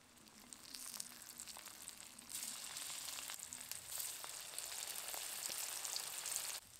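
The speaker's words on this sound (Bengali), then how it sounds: "এইভাবে বাকি কাঁকরোলের প্যাটিগুলোও ভেজে নেব।" Patties of teasel gourd (kakrol) frying in hot oil, a steady crackling sizzle that grows louder and fuller partway through, close and unbroken, with no talk.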